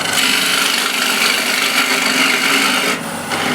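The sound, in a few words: woodturning, hollowing out with a big ball gouge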